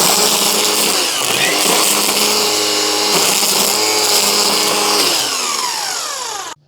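A Milwaukee cordless string trimmer runs steadily at close range with a high, whirring motor whine and buzzing line, its pitch shifting slightly as it cuts, then winding down and stopping near the end.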